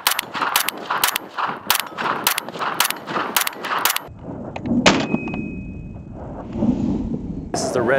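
Ten rounds of Tula 223 ammunition fired from a Springfield Armory Hellion rifle, a quick series of loud, sharp cracks at an uneven pace, then a quieter stretch of shuffling and handling noise with a final shot near the end.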